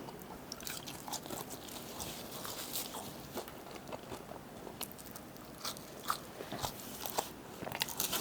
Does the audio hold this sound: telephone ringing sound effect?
no